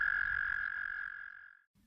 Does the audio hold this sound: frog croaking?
yes